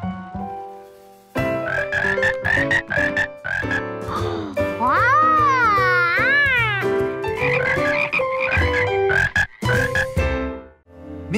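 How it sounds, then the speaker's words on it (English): Cartoon frog croaking, a long run of loud, clear, pitched croaks and warbling calls that rise and fall, with a sweeping trill in the middle, no talk over it. "those were some fine frog calls"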